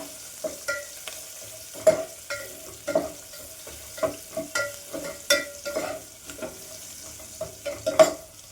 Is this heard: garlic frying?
yes